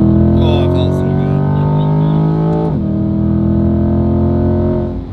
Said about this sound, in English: Car sounds pretty good out of the box.